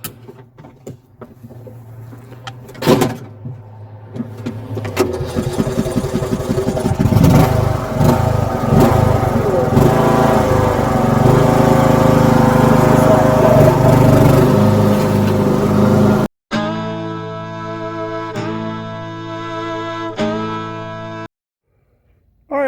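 A lawn mower mows through leaves in the first mow of the season, its engine revving and clattering close by, then cutting out and restarting with a steadier tone before stopping.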